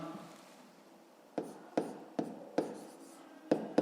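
Chalk or pen writes out a fifth-grade math solution, heard as a series of about seven close, sharp strokes and taps spaced irregularly over a quiet background.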